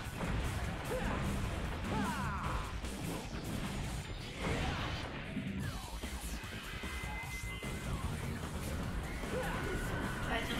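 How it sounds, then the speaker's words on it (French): A horse neighs amid a busy Devil May Cry 3 game soundtrack, with crashes, whooshes and clanging combat effects while players talk over the action. "C'est le cavalier, parce qu'on entend le cheval."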